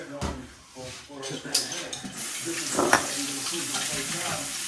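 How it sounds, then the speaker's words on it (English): Rice fries in oil in a pan over medium heat while a utensil stirs it, giving a steady sizzle with scraping and clinking stirs; a person talks over the cooking. "And then you're just gonna consistently start stirring it until all of your rice is turned like a light brown, like a golden brown."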